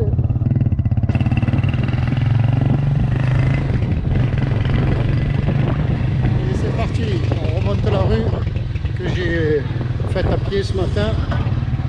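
Harley-Davidson motorcycle riding through Banjul, Gambia, its engine a loud steady rumble with some clatter and shifting revs, while people talk over it throughout.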